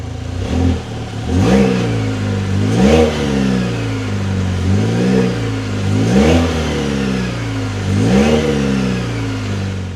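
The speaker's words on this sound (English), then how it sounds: "Take a listen to the exhaust." A 2025 GMC Canyon Denali pickup's exhaust rises and falls through several revving sweeps, a steady engine drone pulsing up and down about every two seconds, close and fairly loud with no voices.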